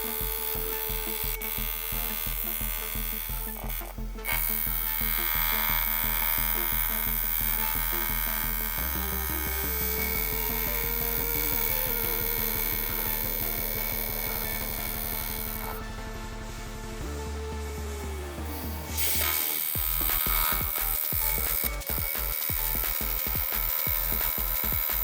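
Welding arc building up material in circles around a damaged part from a 4.800-inch Hemi engine, a steady buzzing crackle that runs continuously and shifts in tone partway through.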